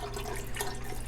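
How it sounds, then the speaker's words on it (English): Store-bought broth pours into a pot while making chicken cacciatore, a steady liquid splash running alone for about a second. "So I am going to add some store-bought broth"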